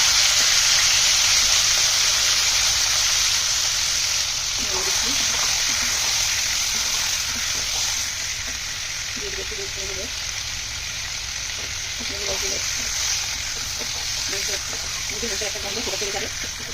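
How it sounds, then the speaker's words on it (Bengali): Steady, loud sizzling of meat frying in a pan fills the whole stretch, with faint voices and small clinks murmuring underneath. "মাংস দিয়ে দিচ্ছি, হালকা ভেজে নেব।"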